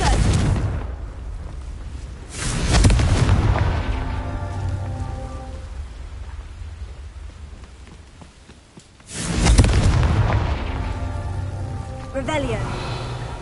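Confringo blasting spells going off in the video game Hogwarts Legacy: two loud, booming bursts with rumbling tails, one early and one later, over a steady ambient game background.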